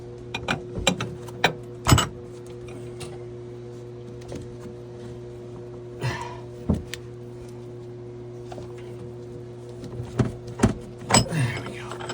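Threaded fitting being screwed in by hand while installing a chiller on a boat, heard as intermittent close ratcheting clicks and short scraping bursts over a steady low mechanical hum.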